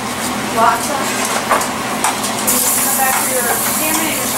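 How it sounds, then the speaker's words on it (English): Shrimp and al dente pasta heating together in a skillet scampi, stirred with soft scraping and a low sizzle under a steady background hiss, with a few brighter clinks along the way. "So mixing, we're heating the pasta right in the pot so we get all the flavor of the shrimp"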